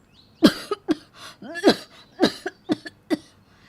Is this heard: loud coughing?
yes